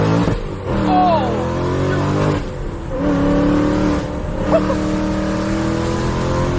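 A supercharged Mustang GT with over 700 horsepower accelerates hard in first gear, its engine roaring loudly with rising, overlapping revs and brief dips between pulls, while an excited voice exclaims over the noise.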